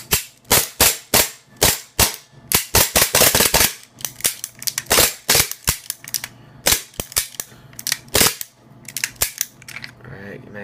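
WE Tech M92FS gas blowback airsoft pistol fired until the magazine runs empty, a rapid string of sharp, loud cracks in bursts and singles, close to the microphone.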